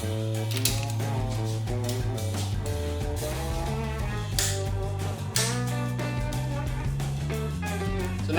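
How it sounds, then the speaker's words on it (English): A torque wrench ratchets on engine cylinder head bolts during a head gasket job, a close run of rapid metallic clicks repeating steadily over several seconds. "So now we've set our torque wrench for 50 pounds"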